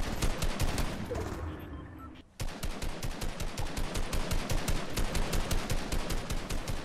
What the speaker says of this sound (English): Damn, I'm just firing into that bush and missing every shot.